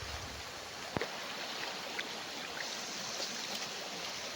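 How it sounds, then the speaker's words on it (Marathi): Water pours out from a village well in a steady, soft rushing flow, faint and continuous, with a couple of brief knocks breaking through near the start. "ही विहीरमधून येतो हा पाणी"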